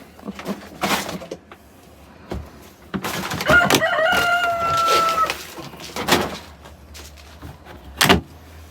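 A rooster crows loudly and close amid clucking chickens being fed on a homestead, with scattered thumps and rustling around the birds.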